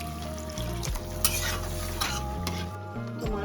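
Water hits a hot pan of Bengali shingi fish and potato curry, giving a steady close sizzle with stirring scrapes and light clinks of utensil on pan.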